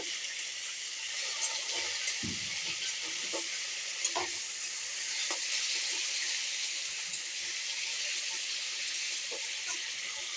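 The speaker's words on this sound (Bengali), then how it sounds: "এরপর আলুগুলো দিয়ে দিব তেলে।" Potatoes frying in oil, giving a continuous soft sizzle and hiss with a few faint clinks of stirring.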